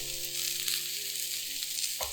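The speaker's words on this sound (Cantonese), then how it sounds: "稍為炒一炒熱翻啲叉燒。" Char siu and red pepper stir-frying over high heat in a hot wok with onion and green pepper, a loud continuous sizzle close up with faint clinks, ending in a brief scrape.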